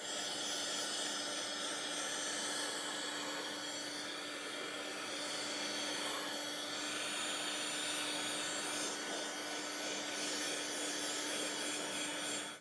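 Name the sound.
heat gun blowing hot air on a wood sample board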